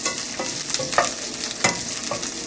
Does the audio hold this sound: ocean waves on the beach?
no